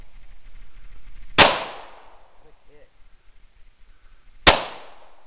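Two sharp, loud gunshots fired outdoors near the New River, a few seconds apart, each cracking suddenly and trailing off in a short echoing decay over quiet background.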